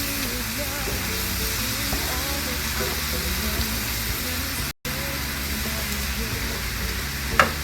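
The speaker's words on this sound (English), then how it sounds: "Give that a good little mix." Mexican charro beans with onion sizzle steadily in a pan while being stirred, giving a constant, close frying hiss with faint scraping from the spoon throughout.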